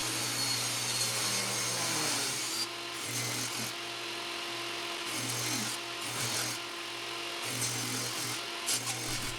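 A saw rips salvaged poplar packaging pieces into narrow strips, the motor droning steadily while the blade's pitch dips and recovers with each pass through the wood, close and loud.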